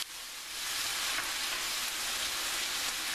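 Tomatoes hit a hot pan for a Mexican-style Veracruz fish sauce, setting off a loud, steady broadband sizzle that swells quickly and holds evenly without any talk.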